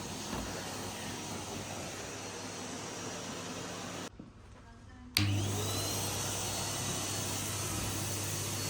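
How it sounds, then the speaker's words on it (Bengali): Vacuum cleaner running while a room is cleaned, a steady broadband roar that cuts out briefly, then restarts louder and continues unbroken, close by with no talking. "সব রুমটা হোবার করে নিয়েছি একটা রুম রয়ে গেছে"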